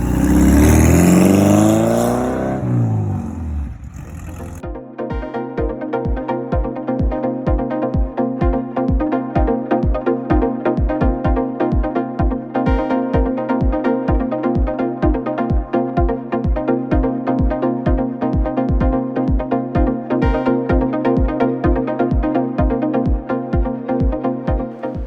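Porsche 914 engine on a first drive after a year-long rebuild, a loud roar fading out before a steady, rapid rhythmic idle-like thrum runs evenly for over twenty seconds with no talking.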